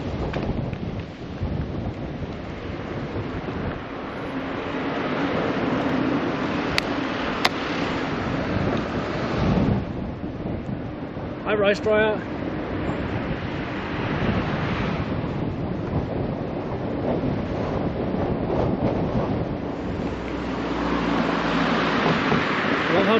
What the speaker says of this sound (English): as you can hear, it's pretty windy